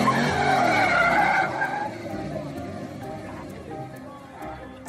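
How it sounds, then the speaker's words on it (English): A Corvette spins out with its tires skidding, giving a loud, sustained screech that fades after a second or so into engine and road noise, with voices over it. "No way the Corvette spins out and the Mustangs don't."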